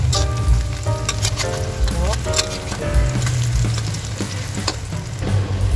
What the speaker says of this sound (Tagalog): Baliktad rin na natin guys ang ating mga torta